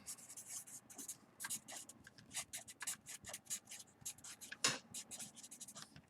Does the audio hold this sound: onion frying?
no